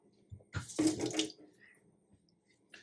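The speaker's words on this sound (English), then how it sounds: "All right, so we'll give it a rinse." Running tap water splashes briefly over a Scotch bonnet pepper held under the faucet, a short close burst of rinsing that fades to near quiet.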